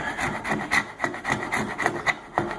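A beveled plastic edge scraped along a downhill ski base to remove excess material, about eight rhythmic rasping strokes, close and fairly loud with no talking.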